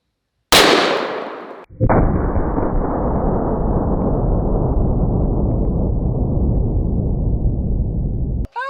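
A single loud .500 Magnum revolver shot fired at a cinder block, a sharp close blast followed by a long sustained roaring rumble that lasts several seconds, with no talking.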